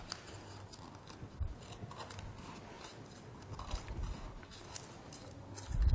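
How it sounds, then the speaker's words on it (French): Scissors snip through cardboard corners in a quiet run of repeated crisp cuts, close and fairly soft, with some handling rustle and a louder bump at the end. "Donc je découpe mes angles."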